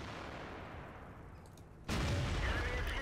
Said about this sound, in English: I think he's fired a shot, though.